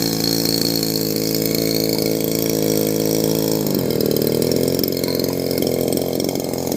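A small Robin water pump engine runs loud and close, a steady buzzing drone that shifts pitch slightly partway through, with the base rattling, and no voices.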